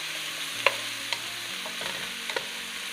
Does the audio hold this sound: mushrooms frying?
yes